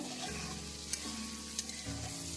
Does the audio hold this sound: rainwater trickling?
no